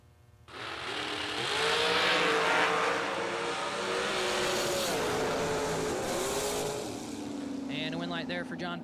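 Hot rod drag cars launch together at a drag strip, their engines roaring loud and sustained as they pull away down the track and the pitch climbs, with an announcer talking over the noise.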